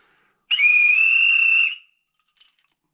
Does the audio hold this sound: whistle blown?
yes